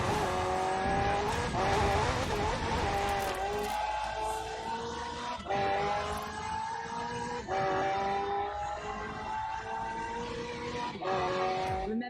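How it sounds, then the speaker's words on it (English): A McLaren twin-turbo V8 hybrid supercar in the racing game Forza Horizon 4 roars hard and close, its engine pitch climbing repeatedly through upshifts in a loud, sustained run with brief breaks between gears. "The car's blistering performance is delivered by a twin-turbo V8, supplemented by a McLaren ECU electric motor and instant power assist system."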